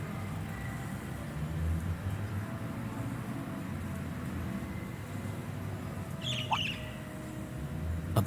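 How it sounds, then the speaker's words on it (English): Bird squawking and chirping in the video game Trails of Cold Steel, a short sharp cry standing out near the end over a steady low ambient game background. "A bird?"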